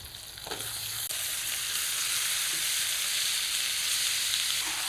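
Washed goat meat scraps hitting hot spice masala in a wok, a loud, dense sizzle and hiss that builds after a brief start and holds steadily, with no talk.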